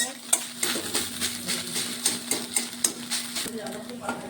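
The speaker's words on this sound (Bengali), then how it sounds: "আমার এখানে ডিমটা হালকা করে ভেজে দেবো" An egg fries in a sizzling pan while a utensil scrapes and stirs in a steady, repeating rhythm, close and moderately loud.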